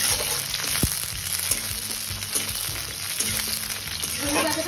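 Black cumin seeds sizzle steadily in hot oil, a close, continuous bright crackle with occasional soft clinks and low knocks of a utensil underneath, no voices.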